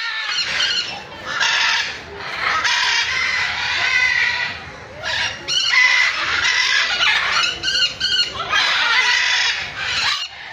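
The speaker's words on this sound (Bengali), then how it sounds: "এরাও জোরে জোরে ক্যাও ক্যাও করছিল। তবে এগুলি কিন্তু ম্যাকাও নয়, এগুলি হলো গোল্ডেন কনিওর।" Golden conures screech loudly in a cage at Kolkata's Alipur Zoo, giving harsh, raucous squawks in repeated bursts close by.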